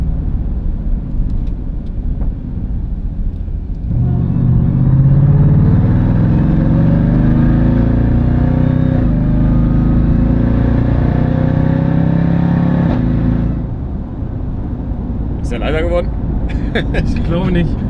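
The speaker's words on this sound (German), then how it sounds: "Ja, doch, man hört den Kompressor immer noch raus." Supercharged Jeep Grand Cherokee Trackhawk SUV driving, its engine rising into a louder, deeper roar for several seconds under acceleration before easing off, heard from inside the cabin with people talking over it.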